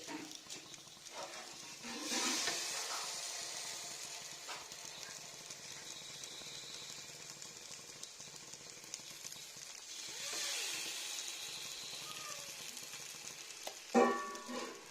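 Banana dosa batter frying on a hot pan gives a faint, steady sizzle with occasional scraping and clinks of a spatula, quiet and without talk.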